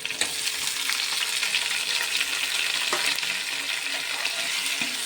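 Steady, dense sizzling of onions frying in hot oil for a village-style brinjal kuzhambu, continuous and close, with occasional stirring scrapes and no voices.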